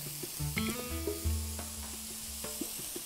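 Onion going into a pan of olive oil with green and red peppers, giving a steady close sizzle with clinks of a utensil stirring, no talking.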